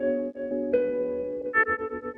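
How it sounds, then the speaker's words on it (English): Electric guitar played through a wah pedal, a sustained tonal phrase with a few sharper plucked attacks and a swelling, sweeping tone, alone and fairly loud. "That sound is the sound of an electric guitar being played through a wah pedal."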